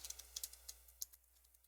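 Quiet typing on a computer keyboard while editing photos, a quick irregular patter of light key clicks close to the mic, with no voice over it.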